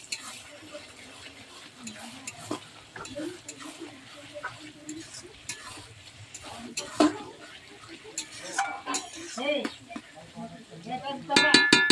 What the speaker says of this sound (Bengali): টমেটোগুলো ভালো করে নেড়ে দেবো